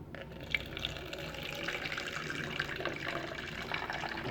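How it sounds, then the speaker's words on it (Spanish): Water is poured into a container sitting on a tared kitchen scale during a hydrostatics density demonstration, giving a steady trickling, splashing flow at moderate loudness with faint drips and no speech. "Entonces comenzamos a vertir agua."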